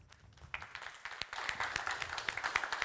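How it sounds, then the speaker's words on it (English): A conference audience starts clapping for a speaker, at first scattered and then swelling into a steady round of applause, fairly soft and distant. "So please give a big applause to Chief Technology Officer at cheqd, Ankur Banerjee."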